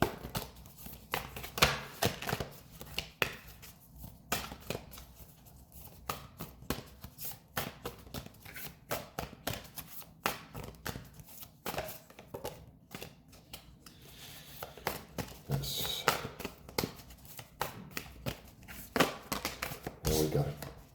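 A deck of oracle cards is shuffled close by in a quiet room, with soft, irregular riffles, taps and papery flicks scattered throughout, and a voice speaks intermittently.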